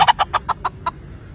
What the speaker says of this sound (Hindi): देखें ये कहाँ का मुर्गी है? आइलैंड की नस्ल है शायद,